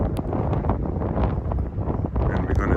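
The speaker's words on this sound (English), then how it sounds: "It is a windy day." Wind buffets the microphone along the Lake George trail in Katy, Texas, on a gusty January evening, a continuous low rumbling roar that swells and dips, loud and close for the whole stretch.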